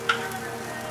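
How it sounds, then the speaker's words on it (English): Mustard greens and garlic sautéing in a pan make a steady, close hiss of sizzling with a brief sharper crackle at the start. "And some mustard greens, sauteing up, some garlic."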